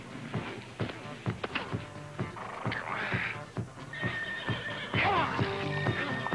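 A horse neighs and whinnies loudly close by, with clip-clop hooves around it and a voice urging it on over the sound.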